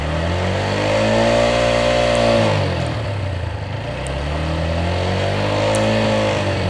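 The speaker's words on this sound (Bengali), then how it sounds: "তারপর আমি আস্তে আস্তে থ্রোটলটা টানবো।" A TVS Apache RTR 4V motorcycle in first gear has its throttle pulled against a 6000 RPM lock, producing two loud, close revs that climb, hold at the limiter, dip and swell again.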